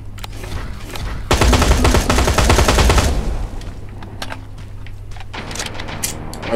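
Rapid automatic gunfire blasts at a spider tank in Terminator Resistance, a dense, loud burst of about two seconds followed by quieter scattered clicks and thumps.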